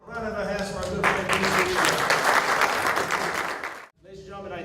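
Audience applause at a retirement party for a colonel, a dense burst of clapping from a room of guests lasting about three seconds, preceded and followed by someone speaking.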